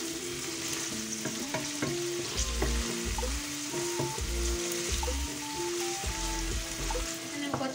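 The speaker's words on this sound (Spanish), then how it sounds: "Removemos y dejamos que se vaya pochando un poquito nuestra cebollita." Chopped onion frying in a pan and being stirred, with a steady bright sizzle throughout and repeated low scraping knocks of the utensil against the pan.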